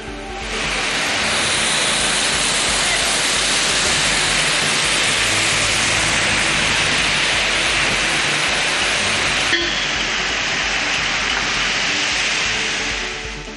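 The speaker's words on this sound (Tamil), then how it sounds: "செங்கல்பட்டு மற்றும் அதன் சுற்றுவட்டார பகுதிகளிலும் நள்ளிரவில் கனமழை பெய்தது" Heavy midnight rain falls in Chengalpattu, Tamil Nadu, a dense, loud, unbroken hiss of downpour that holds steady throughout with no voices.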